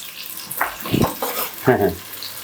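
Cashews with ginger-garlic paste sizzle in a hot pan while a spatula scrapes and stirs in several short bursts, close and fairly soft.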